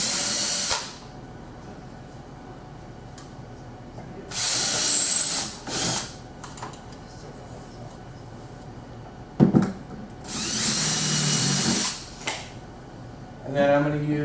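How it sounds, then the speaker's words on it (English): A 5mm bit in a power drill bores out the mounting holes in a sliding door's top rail, whining in three long, loud bursts of a few seconds each, with shorter spurts and quieter handling clatter between them. "Take my 5mm drill. I'm going to drill out each of the holes."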